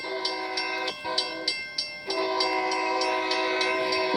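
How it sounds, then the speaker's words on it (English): Union Pacific locomotive in a Roblox train game passes with a loud, sustained multi-tone horn that stays steady, breaks off briefly with a few clanking beats, then resumes strongly over steady rumbling rail noise. "Here comes the Union Pacific train."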